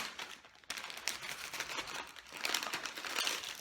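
A resealable plastic bag of small building pieces for a Brixies lobster set is opened, giving a steady, close crinkling and rustling of plastic with a few sharper crackles.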